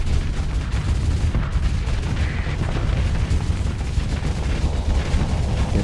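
Spaceship weapons in the space combat game Starsector fire in a dense, continuous barrage of rumbling booms and blasts that stays loud and unbroken throughout, with no talking.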